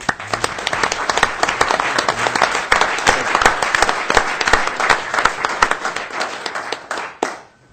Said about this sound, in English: Give this guy another round of applause.